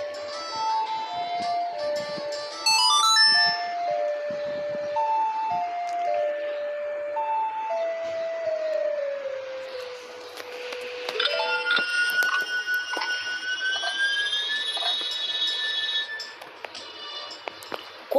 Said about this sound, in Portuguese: Com essa música, você diminuirá o fluxo do tempo.